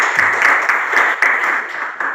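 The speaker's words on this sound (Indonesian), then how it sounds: "Kita berikan tepuk tangan kepada para Pak." An audience at a school presentation on positive culture at a senior high school in Borong gives teachers a round of applause: sustained, fairly loud clapping with a few sharper individual claps standing out.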